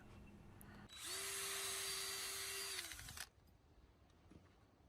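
A power drill pre-drilling holes for a gate latch whines up to speed, holds a steady high-pitched spin for about two seconds, then winds down and stops, close by.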